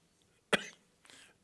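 A single sharp cough from a speaker at an English-language international forum panel in a hall, followed by a softer throat-clearing sound, fairly quiet and isolated.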